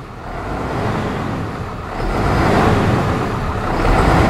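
A 2016 MAN TGM 18.250 rigid truck's 6.9 litre diesel engine revving: a close, deep, rough rumble that swells in two surges and stays loud and steady between them.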